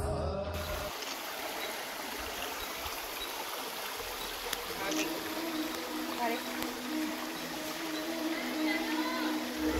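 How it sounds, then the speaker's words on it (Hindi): A waterfall at Muktagiri mountain in Betul district makes a steady broadband rush of falling water, with someone talking over it. "यहाँ का झरना"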